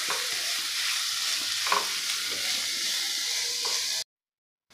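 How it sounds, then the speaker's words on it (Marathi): Finely chopped onions fry in a pan until golden, a steady close sizzle with occasional stirring scrapes, cutting off abruptly before the end. "एकदम बारीक असे चॉप करून घ्यायचे आहे आणि आपल्याला सोनेरी रंगावर हे परतून घ्यायचे आहे।"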